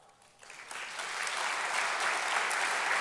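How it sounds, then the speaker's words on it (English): An audience claps at a sports hall of fame ceremony, the applause swelling from quiet to a full, sustained round in a large room. "let's give him a round of applause"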